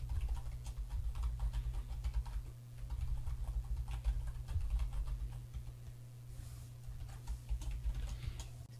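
Soft, rapid keystrokes on a computer keyboard come in quick bursts with brief pauses, close and quiet, while someone fills in account sign-up details.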